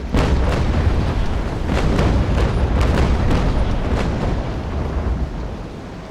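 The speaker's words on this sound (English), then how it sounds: "let us proceed with the first broadside" Ship cannon broadside firing in Naval Action from the Cerberus, heard as a rolling string of heavy booms in quick succession with rumbling low end, loud and close, with no talk.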